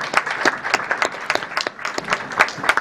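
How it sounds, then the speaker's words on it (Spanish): An audience at a teachers' union meeting gives a round of applause, irregular claps from a modest group, fairly close and clear, with no talking over it. "Bueno, aplaudimos a Gustavo y no aplaudimos a Víctor"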